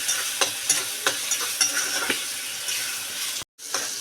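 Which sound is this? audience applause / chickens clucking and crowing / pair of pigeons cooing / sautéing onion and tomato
sautéing onion and tomato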